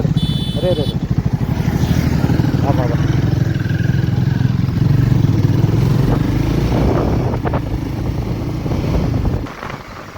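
Triumph Scrambler 400 or Guerrilla 450 motorcycle engine held at high revs near the red line, a loud steady drone throughout with people talking over it.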